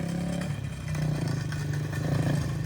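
Motorcycle engine throttled during wheelie practice, a steady nearby drone that rises slightly as the throttle opens, with some clatter over the short stretch.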